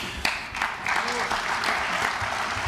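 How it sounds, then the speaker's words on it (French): Audience applause at a French UDI political meeting, greeting Arthur Kandjian as he is introduced; steady moderate clapping from a crowd across the whole moment, with a few sharper claps standing out. "C'est ses premiers applaudissements, ne vous gênez pas"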